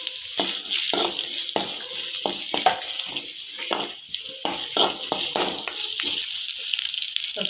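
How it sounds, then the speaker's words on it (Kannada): Onions sizzle in hot oil in a pot while chicken curry is being made, giving a bright continuous hiss broken by frequent stirring knocks and scrapes, close up and without speech. "ಸ್ವಲ್ಪ ಉಳ್ಳಾಗಡ್ಡಿ ಹಾಕೋತಾ ಇದ್ದೀನಿ."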